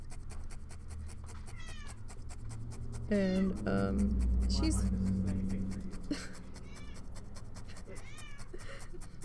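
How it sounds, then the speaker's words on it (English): A domestic cat meows a few times indoors, fairly close, mixed in with human speech and light household noise. "Now the cat's being meowy again."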